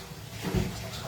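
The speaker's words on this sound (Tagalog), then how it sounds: "Bigyan natin ng tubig." Water is poured into a cooking pot of Ilocano lomo-lomo, a short, soft splashing gush that swells briefly and fades within about a second.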